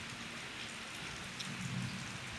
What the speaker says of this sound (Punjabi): ਵਧੀਆ ਮੀਂਹ ਪੈ ਗਿਆ